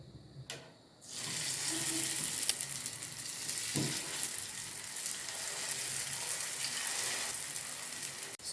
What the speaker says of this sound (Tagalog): habang tayo magpapapula ng ating pinipritong saging